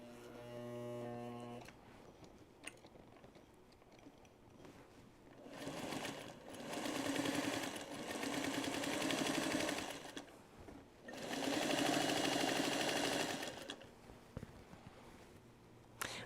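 A sewing machine binds a quilt in several runs of quick, rhythmic stitching, each lasting a few seconds with quiet pauses between, while a low hum sits under the whole passage.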